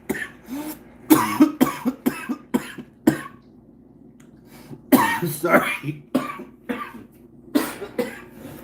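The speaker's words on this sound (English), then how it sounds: "That vape makes me cough." A person coughs repeatedly from vaping in harsh, close bursts, some in quick pairs, with a short quiet pause between groups. A few words are spoken among the coughs.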